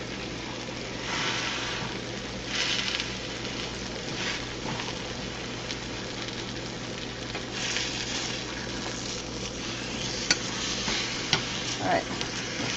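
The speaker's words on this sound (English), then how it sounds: "Can you hear the sizzling? I hope you can hear it because it sounds amazing." Pork chops sizzle loudly in a hot pan, a constant crackling hiss with occasional sharper pops and a few light scraping taps near the end.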